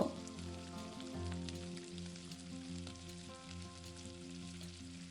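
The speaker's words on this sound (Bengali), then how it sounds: "ওই একই তেলে বাকি পকোড়াগুলোকেও গোল্ডেন ব্রাউন করে ভেজে নিতে হবে" Batch of mixed vegetable pakoras deep-frying in hot oil, a steady crackling sizzle under a constant low hum, with no voices.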